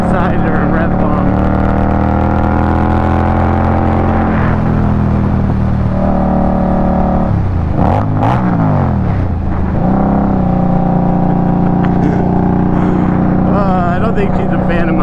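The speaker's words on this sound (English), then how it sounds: "See if we can go up beside her and rev bomb." An Indian Scout Bobber motorcycle is rev bombed on a ride, its engine rumbling loud and close, then revving up and dropping back in a few sharp surges over the steady drone.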